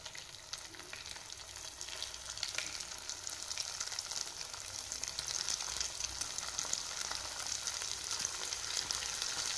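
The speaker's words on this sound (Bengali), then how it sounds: "এরপর দেখুন তেলটা গরম হয়ে গেছে, আর গরম হয়ে যাওয়ার পর একটা একটা করে তেলের মধ্যে দিয়ে দেব।" Round potato balls fry in hot oil over a high gas flame, a steady bright bubbling sizzle that builds slightly and continues without pause, moderately loud and free of speech.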